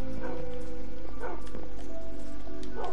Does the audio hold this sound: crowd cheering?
no